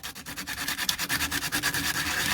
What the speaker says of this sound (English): lightly sand it, get all them lumps and bumps off that we've put on there